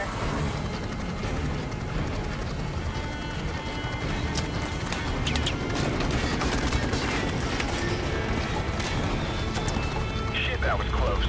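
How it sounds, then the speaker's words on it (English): Call of Duty Modern Warfare Remastered combat: dense, rapid gunfire bursts crackling nonstop over a heavy rumbling background, with voices talking underneath throughout. "Taking fire here."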